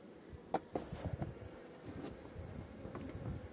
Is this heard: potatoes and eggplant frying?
no